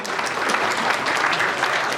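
An audience at a film production launch event applauds in a dense, continuous burst of clapping, loud and close, without pause.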